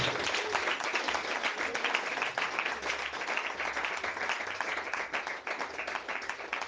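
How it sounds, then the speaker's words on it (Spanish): A church congregation applauds during a worship service, with dense, sustained clapping from many hands that holds steady and loud for the whole stretch. "Denle un aplauso al Señor si se lo quiere."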